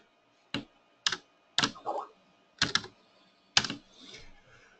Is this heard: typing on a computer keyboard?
yes